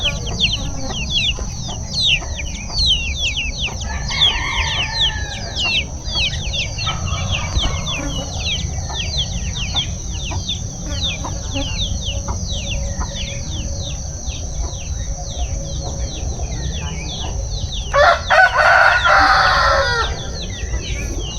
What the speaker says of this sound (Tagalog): Nalubong na po tayo ng mag-anak na manok.